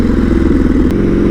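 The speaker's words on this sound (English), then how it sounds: "This bike is not very loud when you're just cruising around." Turbocharged Buell M2 motorcycle cruising on the road, a steady loud engine drone with wind rush and no voices.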